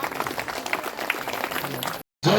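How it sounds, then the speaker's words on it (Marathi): Crowd applause at a gathering, dense clapping filling the clip steadily before a brief dropout and a short loud return. "जोरदार टाळ्या एकदा"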